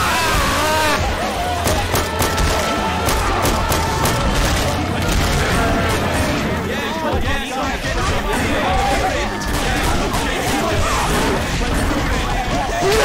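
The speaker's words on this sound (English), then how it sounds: "You are shooting me!" Dense gunfire in the Left 4 Dead 2 video game in a New Orleans setting, rapid shots and crashes packed continuously throughout at steady loudness, with player chatter mixed in.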